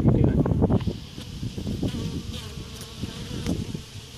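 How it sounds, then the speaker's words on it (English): Bees buzzing around a top bar hive, close loud humming and passing drones of individual bees, strongest at the start and continuing steadily with a few distinct fly-bys. "That bee was like,"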